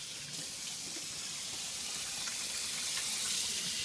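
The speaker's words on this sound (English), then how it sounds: "the first step you have to do is wash your hands before any cooking or baking" Hands being washed under a running kitchen tap before baking, a steady, loud hiss of flowing water with faint splashing, continuous and close with no voices.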